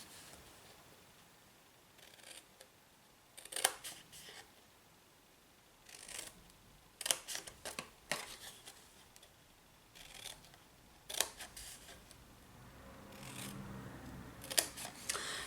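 Scissors snip through folded paper for handmade Christmas guest gifts: a series of short, crisp cuts in separate bursts with quiet pauses between, close and fairly soft, no talking.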